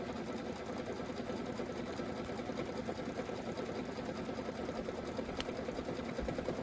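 A Kimberbell embroidery sewing machine stitches a pillow block, a steady, continuous mechanical whir and rapid needle patter, close and even throughout with no talking.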